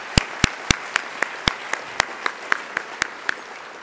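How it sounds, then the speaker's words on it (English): Sharp, evenly spaced claps ring out in a slow, steady rhythm, about thirteen in a row, in a conference luncheon hall after a keynote talk, gradually softening toward the end. "let's clap for David's talk, too"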